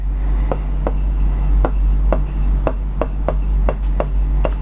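A marker or chalk writes fractions on a board during a maths lesson, making a steady series of sharp tapping strokes at close range while a teacher's voice murmurs faintly underneath.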